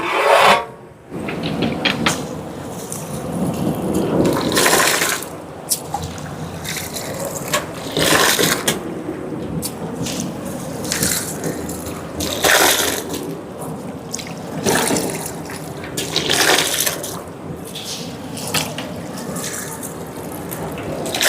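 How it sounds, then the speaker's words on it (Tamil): Rice is washed by hand in water inside a pot or sink, making loud, close sloshing and rubbing swishes in repeated waves, without any talking. "அரிசியை கழுவுவோம்."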